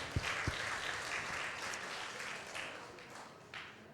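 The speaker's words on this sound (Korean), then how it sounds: "우리 감사하다고 박수하겠습니다." A church congregation at a Sunday service breaks into steady applause, a dense wash of many hands clapping continuously, with two sharp thumps near the start.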